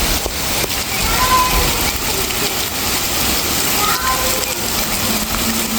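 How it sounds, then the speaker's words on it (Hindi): Steady rain pours over a village pond in the evening, a dense continuous hiss of drops on water that stays even and fairly loud throughout with faint background noise underneath. "कितनी अच्छी एंड कितनी गंदी बारिश हो रही है"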